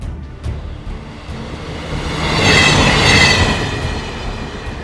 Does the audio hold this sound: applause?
no